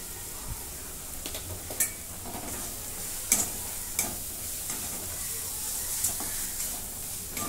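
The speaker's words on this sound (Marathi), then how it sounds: "याला मी 2 मिनिटं परतून घेते" Homemade onion-garlic masala sizzles and fries in a pan with steady hiss, broken by occasional scraping stirs and spoon knocks against the metal.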